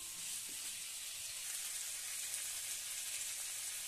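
Eggplant pieces frying in a pan give a steady, dense sizzle that holds evenly throughout, close and fairly soft, with no talking.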